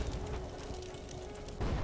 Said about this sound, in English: Let's launch an orbital bombardment here.